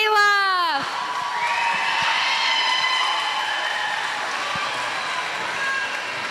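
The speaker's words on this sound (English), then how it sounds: "give a big round of applause for Michaela" A school festival audience applauds and cheers for a performer, with sustained clapping and whoops filling the hall after a brief high whistle-like tone at the start.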